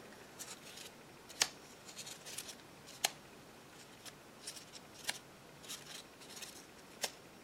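A plastic action flower toy with two stable states snaps shut when pushed toward the center, giving a string of sharp, close clicks and light rustles at irregular intervals, with a few louder snaps standing out.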